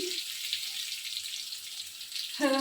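Pointed gourd (potol) frying in a pan for a vegetarian home-cooked meal, a steady close hiss and sizzle running throughout, with a brief voice breaking in near the end.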